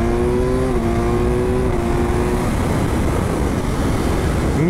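A BMW S1000R motorcycle engine at full throttle in third gear roars loudly and continuously, its tone climbing as the bike accelerates hard, with strong wind rush throughout.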